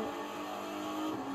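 A race car from The Crew 2 circles the Golden Hills Racetrack south of Las Vegas, its engine droning in a steady, loud, continuous roar with a slight rise in pitch as it pulls ahead.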